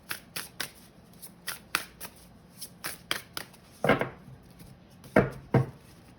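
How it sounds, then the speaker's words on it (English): Spellcasting oracle cards being shuffled by hand in a quiet room, giving a quick series of crisp riffling snaps followed by a few fuller, louder shuffles near the end. "So these are the spellcasting oracle cards, and I'm going to pull a card for you."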